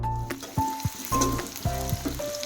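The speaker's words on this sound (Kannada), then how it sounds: "ಇದು ಸ್ವಲ್ಪ ಟ್ರಾನ್ಸ್ಪರೆಂಟ್ ಕಲರ್ ಆಗತ್ತನ ಫ್ರೈ ಮಾಡ್ಕೋಬೇಕು ನೋಡ್ರಿ" Chopped onions fry in a pan with whole spices for chicken gravy, a steady close sizzle running alongside intermittent tonal hums and a few light clatters.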